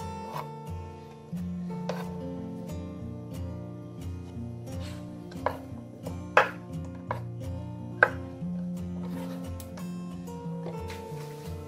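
A knife chops Chinese herbal ingredients on a board in irregular strokes, a few sharp louder chops standing out over steady background music.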